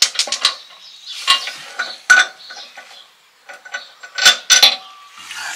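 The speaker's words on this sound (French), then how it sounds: "je vais commencer, comme je vous le disais, par retirer la vis qui se trouve derrière" Metallic clinks and scrapes of a tool working a screw loose from a car shock absorber mount, a quick cluster of sharp taps, then quieter fiddling and another burst of clinks, close by with no talk.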